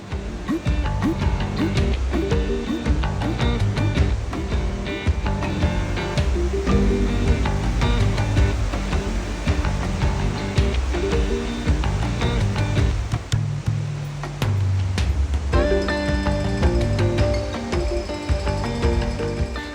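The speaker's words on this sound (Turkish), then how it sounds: "Bu mevsimde şanslıyız ki suyun debisi çok fazla ve Victoria Şelalesi en güzel yüzünü gösteriyor bizlere" Victoria Falls on the Zimbabwe–Zambia border, running at high water flow, roars as a dense, constant wash of broadband noise, loud and unbroken, with scattered sharp crackles and bumps over it.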